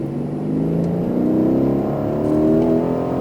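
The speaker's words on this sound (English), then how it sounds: "Unwind to the right, squeeze on the throttle." Aston Martin Vantage F1 Edition accelerating on a racetrack, its engine note rising steadily in pitch as the revs climb, loud and close throughout with no speech.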